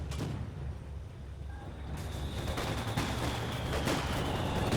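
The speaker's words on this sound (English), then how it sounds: "Just calling down artillery." Artillery barrage in Company of Heroes 2 city fight: a dense, continuous rumble of distant shelling and gunfire, heavy and steady throughout with no distinct single blasts and no voices.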